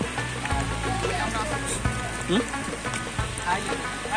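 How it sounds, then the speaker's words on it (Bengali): Light rain falls on a hill trail near Napittachora waterfall in Sitakunda, a soft steady patter with faint scattered drops and occasional knocks, quiet and distant-sounding. "কিছুটা বৃষ্টি হচ্ছে"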